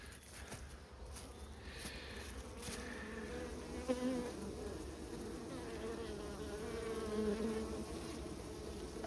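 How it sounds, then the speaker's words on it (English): A dense, steady buzz of many bees droning continuously, fairly close, with faint rustling underneath. "I'll just put the box on and put the bees back in and see what happens"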